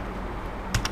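Two quick, close keystrokes on a computer keyboard near the end of a short stretch of quiet room hum, as an IP address is entered.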